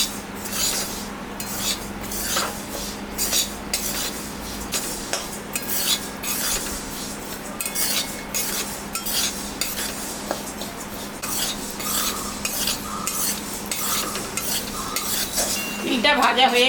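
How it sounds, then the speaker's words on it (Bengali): Sesame seeds being dry-roasted and stirred in a hot wok (kadai) for til naru, with steady scraping and rattling of a spatula against the pan over a soft sizzle and a low burner hum, continuous throughout with no talking. "এখন আমি তিলটা একটু ভাজে নেব।"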